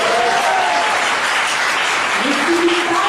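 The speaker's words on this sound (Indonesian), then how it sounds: "kurang kuat tepuk tangannya" A seminar congregation in Pekanbaru bursts into loud, sustained applause, a dense wash of many hands clapping close and continuous, with faint voices rising over it.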